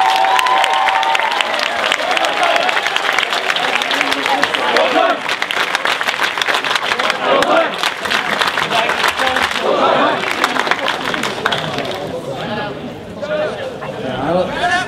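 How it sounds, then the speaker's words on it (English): A theatre audience at a July 2013 production of the musical Oliver! claps and cheers loudly for the director, dense continuous applause with some shouts lasting throughout, easing slightly near the end. "You can clap again for Steve Goldklang."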